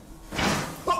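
A door slams shut in a dim setting, a single dull thud with a brief whooshing swing, then a second sharper knock as it closes.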